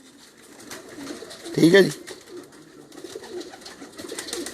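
A pigeon gives one short, throaty coo close by, followed by quieter background sounds, with someone speaking briefly in Hindi.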